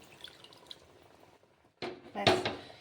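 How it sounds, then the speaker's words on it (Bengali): Water poured into a pointed gourd malai curry cooking in a pan, a brief loud splashing gush following a quiet stretch of faint kitchen clatter. "এবার আমি পরিমাণ মতো জল দিয়ে দেব"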